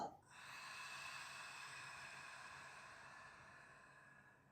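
A single long, soft exhale during a yoga breathing exercise, a steady airy hiss that follows a brief initial puff and fades slowly, quiet and close.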